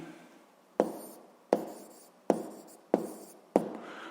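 Pen strokes on paper while writing down an answer to a physics problem, five sharp taps, each followed by a short scratch, spaced about three quarters of a second apart, close and quiet, with no talk.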